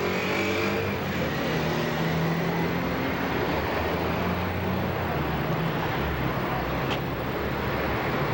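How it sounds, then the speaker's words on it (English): A large bus drives past on a busy London street, a steady loud engine rumble blending into continuous traffic noise throughout. "Big B-bus coming by."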